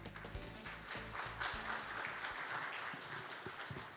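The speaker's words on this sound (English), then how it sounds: "please welcome him with a big round of applause" Applause welcoming a speaker at a conference summit, a steady wash of distant clapping from a seated audience that holds through the clip, fairly faint with low thumps beneath.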